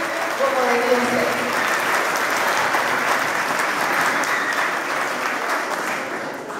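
Sustained audience applause at a Chilean municipal gathering during a teachers' strike, steady and fairly close, filling the room without letting up.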